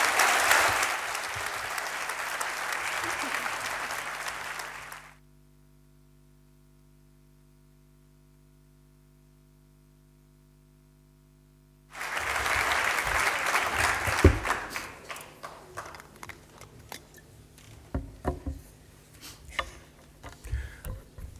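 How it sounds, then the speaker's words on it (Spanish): A crowd at a political event in Tarazona, Aragón applauds loudly, cuts to near silence for several seconds, then clapping returns and gradually thins into scattered claps. "Un aplauso para el secretario general."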